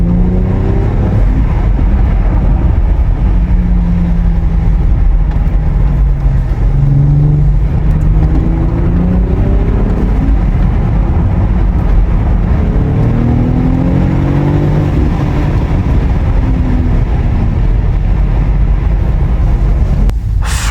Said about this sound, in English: you can hear the turbo spooling up every single time you put your foot down